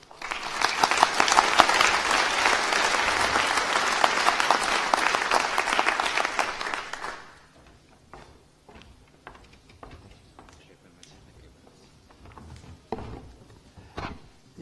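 Conference audience applauding to welcome the ITU Secretary General, about seven seconds of steady, full-room clapping that stops abruptly, followed by quiet room noise with faint scattered knocks and shuffles.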